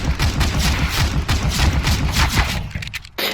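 Rapid automatic gunfire from the video game CS:GO rattles in a loud, dense barrage of overlapping shots that cuts off abruptly near the end.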